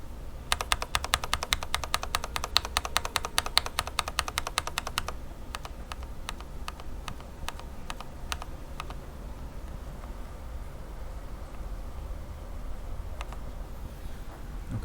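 Single Cherry MX Red key on a Corsair Strafe keyboard, unlubed and without O-rings, pressed in fast bursts of sharp clacks, then slower scattered presses, close and clear with no talk.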